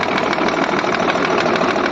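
A tractor engine runs at slow, steady speed, powering a double-pipe sprayer compressor for spraying a sugarcane ratoon crop; the close, continuous rumble goes on with no talk over it.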